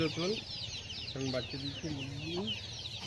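Chickens cluck in short, repeated bursts, fairly close, beside a mud-walled two-storey village house, over a steady background of outdoor chatter and birdsong.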